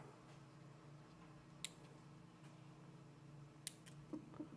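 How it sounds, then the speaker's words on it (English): Cutters snip off the leads of a component on a digital DIY clock kit board, giving a few faint, sharp clicks spaced seconds apart over quiet room tone. "Snip these off."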